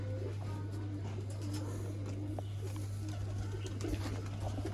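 A Teddy breeder pair of pigeons coo softly in a few short, low calls, close but faint against a constant low electrical hum.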